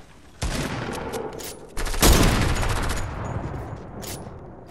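Gunfire in a shooter video game, sniper fight: loud, dense bursts of shots that cut in sharply and ring on as a sustained roar, with no talk over them.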